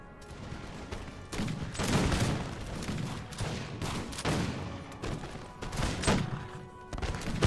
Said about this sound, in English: So my rifles just decimating the Portuguese lines here.